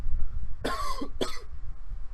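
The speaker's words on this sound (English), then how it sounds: "Sorry, I have to like cough." Two short, harsh coughs close to the microphone, the second briefer than the first, with quiet low background hum around them.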